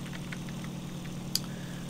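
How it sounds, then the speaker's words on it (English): A steady piston aircraft engine drones in a steady, even hum within the IL-2 Sturmovik flight game, holding at a constant moderate level with one brief click near the end and no talk over it. "I'm going to go ahead and cool my engine off here."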